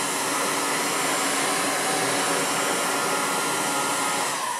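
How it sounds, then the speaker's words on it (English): A standard heat gun blows a steady, loud whooshing hiss of hot air while softening old putty on a timber window, constant and unbroken with no talk. "So we've just got a standard sort of heat gun here."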